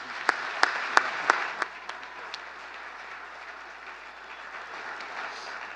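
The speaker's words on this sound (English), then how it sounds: "why don't we give him a round of applause" A crowd at an awards ceremony applauds, opening with a few sharp, distinct claps that blend into steady, sustained clapping.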